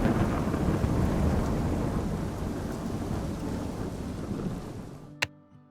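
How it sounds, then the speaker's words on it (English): Thunder from a Minecraft mod rolls as a long, loud rumble with rain, slowly fading, then a sharp crack strikes just before the end. "This mod adds new thunder sounds and plays them dynamically based on the player's distance."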